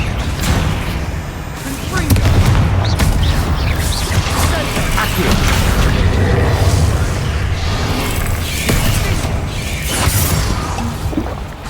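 Confringo blasting spells from Hogwarts Legacy go off in loud booming, shattering bursts with crashes and debris clatter, repeated over a dense game soundscape while a voice shouts spell names.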